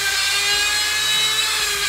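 A small Dremel rotary tool with a sanding drum whines at high speed with a steady buzzing tone, pressing briefly into EVA foam a few times without talk.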